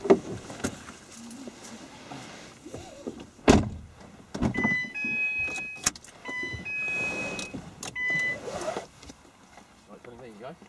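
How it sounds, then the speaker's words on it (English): A car door shuts with a single solid thud inside a quiet cabin, followed by soft electronic chime tones and faint murmuring voices. "And once you're out, Tony, close the door behind you."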